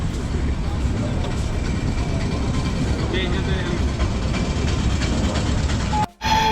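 A long passenger train runs along the track with a loud, steady rolling rumble heard close up from on board. The noise drops out briefly near the end, and voices talk faintly underneath.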